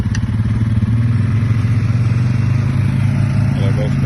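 Two ATV four-wheelers hooked together rev loudly and spin their wheels while towing a boat during recovery after Hurricane Helene, giving a close, steady, rumbling engine drone throughout, with voices under it.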